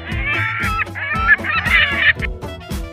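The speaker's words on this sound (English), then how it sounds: "Seagulls. Shoo." Cartoon seagulls squawk and honk in a quick, busy run of calls, close and fairly loud, with no talk over them.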